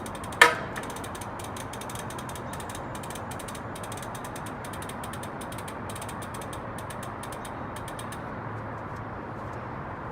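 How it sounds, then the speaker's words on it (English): A pedal wrench turns a bicycle pedal loose with a rapid, fast-clicking ratchet that runs steadily for about eight seconds after one sharp knock at the start, close and clear with no talking. "So removing pedals is pretty easy. You just need to have the right size pedal wrench."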